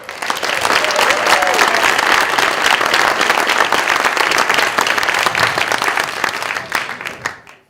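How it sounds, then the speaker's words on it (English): Sustained, loud applause from a conference audience welcoming a speaker, a dense wash of many hands clapping that holds steady for several seconds before trailing off at the end. "will you give one of those round of applause"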